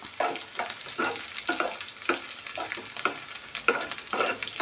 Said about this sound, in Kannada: ಈ ಥರ ಕೆಂಪಿಗೆ ಫ್ರೈ ಮಾಡ್ಕೊಬೇಕು.